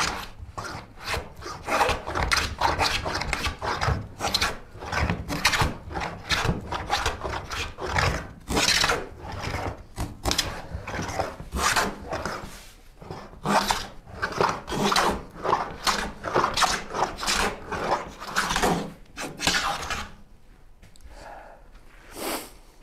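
Handsaw cutting wooden boards in a workshop, a steady series of rasping strokes in quick rhythm, close and fairly loud, pausing briefly near the end before a few last strokes.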